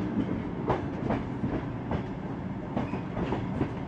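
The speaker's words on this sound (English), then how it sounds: "Our train stops at the Tsagan station, in the midst of the desert." A passenger train crossing the Gobi Desert rolls steadily along, its wheels beating out a regular clickety-clack over the rail joints beneath a continuous rumble, close and sustained throughout.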